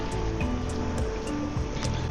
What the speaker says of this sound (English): The waves come in and fill it up.